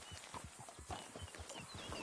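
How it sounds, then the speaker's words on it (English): Horse hooves clip-clop steadily on the ground in the Red Dead Redemption 2 video game, a rapid, even rhythm of fairly quiet, moderately close steps throughout. "Control your horse, Arthur."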